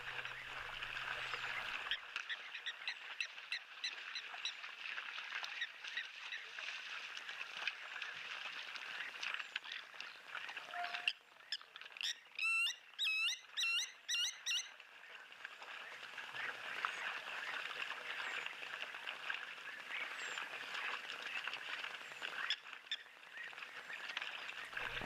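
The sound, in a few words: European bee-eaters calling in chorus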